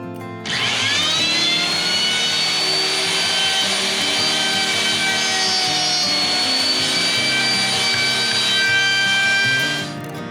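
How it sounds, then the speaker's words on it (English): Router fitted with a collared dovetail bit cutting dovetails in cabinet wood, a loud steady high whine that spins up, holds for several seconds and then cuts off. "dovetail router bit in with a collar and just zap them out"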